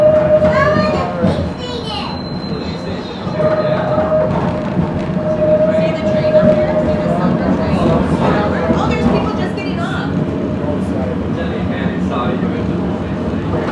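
A Kenosha streetcar trolley rolls along its loop from inside the car, with rumbling wheels, rail squeal and clicking over joints, while people talk and children's voices carry in the background.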